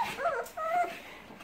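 Abandoned puppies left at a gate whimper and whine in two high, wavering cries, close and fairly loud, with no talking.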